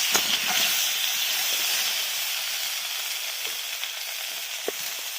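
Chunks of taro root fry in a pan with a steady, close, loud sizzling hiss, broken by a few sharp crackles and pops; no one speaks.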